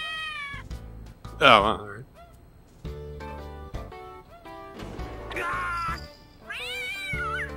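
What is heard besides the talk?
cat meowing, wanting to go outside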